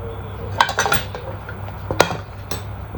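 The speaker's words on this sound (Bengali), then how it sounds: "চামচ নিয়ে নিলাম।" A spoon clinks against dishes while potato is served for a small child, giving a few sharp, separate metallic chinks over a steady low household hum.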